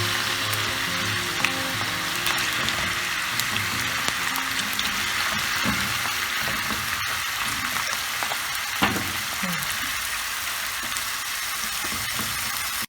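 Potatoes for a Spanish tortilla de patatas fry in hot oil, a loud, dense, continuous sizzle with occasional crackles and a few soft knocks in the pan, close up.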